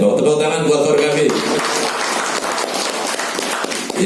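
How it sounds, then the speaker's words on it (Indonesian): An audience at a community gathering gives a burst of clapping that swells into steady applause and keeps going under a loudspeaker voice. "Tepuk tangan buat Porkabi."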